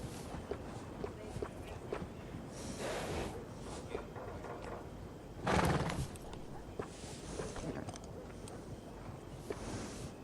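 In Red Dead Redemption 2, hooves clop steadily and a horse snorts and whinnies, with one louder burst midway, all against a soft ambient background.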